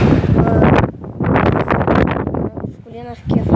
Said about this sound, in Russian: Такой ураган у нас тут.